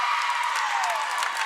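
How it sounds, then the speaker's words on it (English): At a girls' high school basketball playoff game, the visiting crowd and team bench scream and cheer in a continuous, loud, excited roar that fills the gym. "the visiting crowd and the bench scream for their team"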